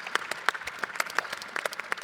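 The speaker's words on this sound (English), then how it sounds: "Give yourself a round of applause" Audience at a health care discussion event gives a brief round of applause, sparse and fairly faint, with individual claps standing out as a small crowd claps unevenly.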